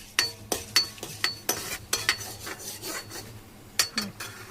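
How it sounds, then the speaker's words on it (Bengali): Black mustard seeds are stirred in hot oil in a wok (kadai). Bursts of scraping and rasping from the spatula come in an irregular rhythm, roughly a dozen strokes, over a light sizzle. No one speaks. "কালো সর্ষে দিয়ে একটু নেড়ে ছেড়ে দিলাম"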